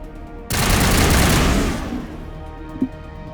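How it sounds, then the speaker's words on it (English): A loud, sustained burst of gunfire in the Mass Effect game erupts suddenly and roars for over a second before fading into a low rumble, with a small thud shortly after. "Somebody's shooting."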